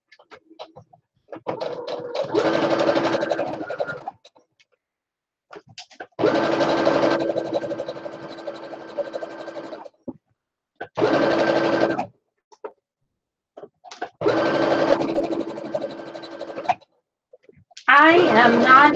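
A sewing machine stitches a no-pattern apron in four separate runs of whirring, each a few seconds long, with quiet pauses between them while the fabric is adjusted. A short burst of a different texture comes at the very end.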